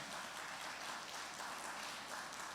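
Faint, steady applause from a church congregation during a sermon, a continuous wash of clapping heard at a distance with no talking.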